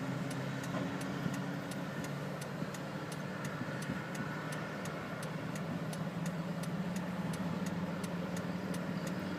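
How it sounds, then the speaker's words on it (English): A horse float rolls past with a steady engine drone among a convoy of trucks carrying supplies, the rumble holding constant and fairly distant, with a regular faint ticking running through it. "Here comes a horse float."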